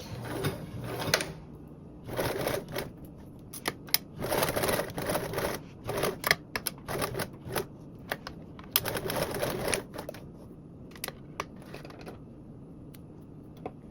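Choppy, clattering runs from a sewing machine stitching along a centered blanket backpack strap, broken by short pauses and small knocks; nearby, with no voices.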